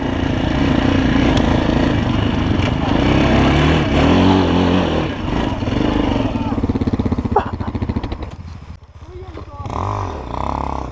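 A KOVI Advance 250 motard motorcycle rides off-road, its engine droning and revving loudly and close throughout, with people talking over it.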